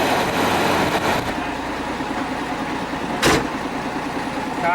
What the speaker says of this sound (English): Here's one of the local taxis.